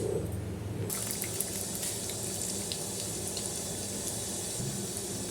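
Cashew nuts dropped into hot ghee give a sudden bright, hissing fry that starts after a brief quiet moment and continues as a steady faint sizzle with small pops.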